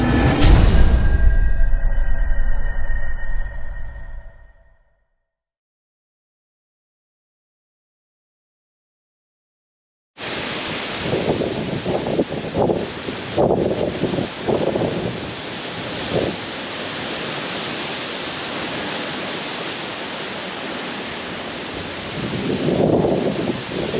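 Strong wind buffets the microphone outdoors during a DJI Mini 2 drone high-wind test, a steady roaring rush with gusts, loud near the mic. It follows a brief burst and a few seconds of silence.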